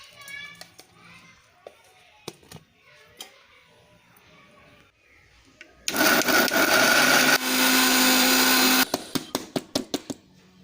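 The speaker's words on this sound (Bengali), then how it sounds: "মিক্সচার ব্লেন্ডারের মধ্যে ব্লেন্ড করে নিয়েছি।" An electric mixer blender grinds ginger, green chilli and coriander into a paste, a loud steady whine running for about three seconds before cutting off, with a voice talking quietly around it and a few clicks and knocks.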